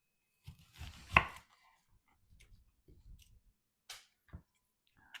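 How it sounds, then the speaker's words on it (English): A large onion is chopped on a board, a few sharp irregular knife strikes and clicks with quiet pauses between, close and fairly soft, with faint movement noises around them. "we're now going to chop up this 1 large onion"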